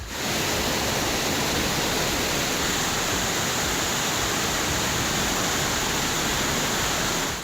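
Floodwater rushing through a flooded village in Muzaffarpur district, Bihar: a loud, unbroken roar of flowing water filling the scene steadily from start to end, with no voices.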